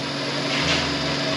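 A drill slowly turns a reamer during a 6T70 transmission rebuild, giving a continuous low motor hum with a steady tonal drone and no speech.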